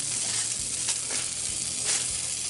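Baby back ribs sizzle steadily on a Sportsman's Grill after being flipped. The loud, close hiss is continuous, with a few faint scraping ticks from the turning, and there are no voices.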